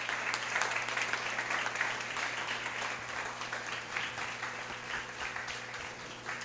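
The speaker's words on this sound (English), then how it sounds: "Let's give them another round of applause." Evening audience applauds harpists after a performance, sustained clapping from a room of listeners over a faint steady hum, gradually easing off toward the end.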